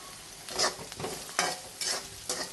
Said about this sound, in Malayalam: കറിവേപ്പില ഇട്ടതിന് ശേഷം നമുക്ക് കായപ്പൊടി ഇട്ട് കൊടുക്കുക.